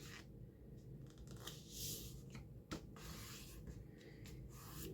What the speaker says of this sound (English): And then we can finish folding it.